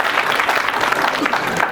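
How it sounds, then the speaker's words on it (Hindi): Audience applause at a school annual function during a freedom fighters role play, dense steady clapping throughout, fairly loud and close. "बहुत ज्यादा तालियां सर के लिए"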